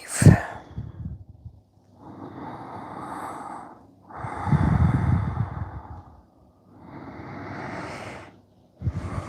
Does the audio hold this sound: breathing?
yes